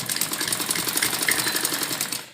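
A sewing machine runs a steady, fast seam on a frock, its rapid rhythmic needle chatter close and continuous for a couple of seconds before cutting off abruptly.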